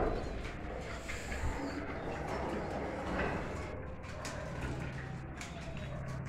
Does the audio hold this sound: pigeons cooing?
yes